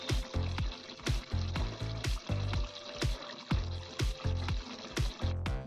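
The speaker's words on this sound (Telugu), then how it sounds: "మసాలా కూరకు పట్టేలా కలుపుకుంటున్నాను" Masala sizzles and fries in a pan of gongura chicken curry, with rhythmic scraping stirs every half second or so, loud and close with no talk.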